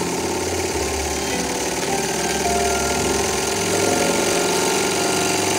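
A Bing toy steam engine, now running on a real boiler, chuffs in a fast, steady mechanical rhythm with continuous hiss and clatter, loud and close throughout with no talking.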